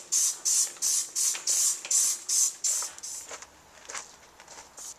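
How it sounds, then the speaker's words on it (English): A spray bottle squirts cleaner onto the blower wheel of a Fujitsu mini split heat pump in quick rhythmic bursts, about eight sharp hisses in a row, followed by a few softer, scattered sprays. "Give it a light spray."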